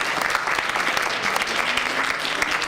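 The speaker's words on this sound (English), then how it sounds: "a big round of applause for everyone who competed here today" Steady applause from an audience at a college elevator pitch competition, a dense even clatter of many hands clapping for the competitors, with a few cheers mixed in.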